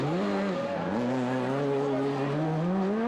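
A rallycross car at the 2012 European Rallycross round in Germany howls through the joker lap, its engine note sweeping up and down with gear changes and revs, loud and close throughout with faint commentary underneath.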